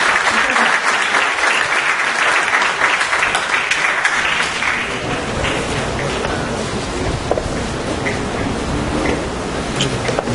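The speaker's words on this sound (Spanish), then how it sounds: "les pido un aplauso al arquitecto José David Pinzón" An audience applauds to welcome architect José David Pinzón, a loud, sustained wash of clapping that stays full throughout, with no other sound standing out.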